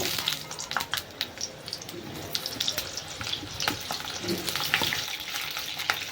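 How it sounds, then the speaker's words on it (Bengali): Pointed gourd (potol) pieces fry in hot refined oil, giving a steady close sizzle with scattered crackles and pops, no voices. "তেলটা গরম হয়ে গেছে, এবার আমি পটলগুলো ভেজে নেব।"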